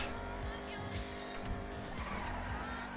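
Tires squeal as a car skids hard in a video game, a continuous loud screech over engine roar filling the whole moment with no speech.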